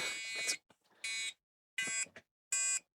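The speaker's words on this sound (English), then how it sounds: "Yep, got a beep code." Computer motherboard POST beep code from a board with a suspected programmable interval timer fault: four loud, shrill electronic beeps with short gaps, the first longer, heard alone.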